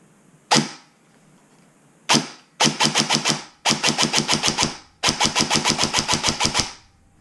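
An airsoft gun with a Gate Titan Phantom SSG conversion fires close by, first two single shots, then three sharp full-auto bursts of rapid, evenly spaced snaps, with silence between them and no talking.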